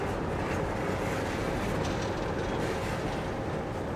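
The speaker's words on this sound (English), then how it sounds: "the ballast train nears Rylstone" A ballast train on a heritage railway line nearing Rylstone Station, giving a steady, loud, close rumble of wheels and wagons on track throughout.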